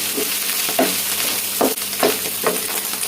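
Tomato paste stirred into an eggplant filling sizzling in a pan, a loud steady frying hiss with several rhythmic spoon scrapes every half second or so, close and without speech.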